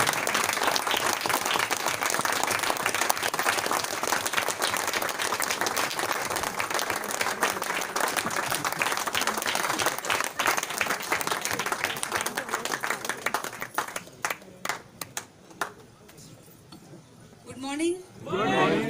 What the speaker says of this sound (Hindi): तालियां रुकनी नहीं चाहिए जब तक स्टेज पर स्पीकर ना पहुंच जाए।